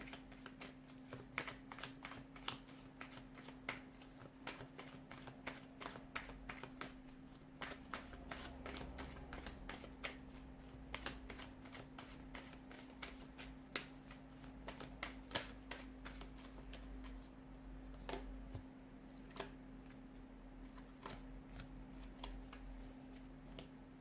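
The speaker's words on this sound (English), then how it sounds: "let's give the cards a shuffle and begin." Tarot cards riffle and shuffle repeatedly in quick, crisp bursts close by, with a steady low hum in the background and no talking.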